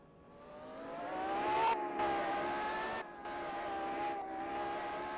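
A time attack race car with heavy downforce and active aero on a circuit, its engine screaming at high revs and climbing in pitch, with brief gear-change breaks, heard from trackside at moderate distance.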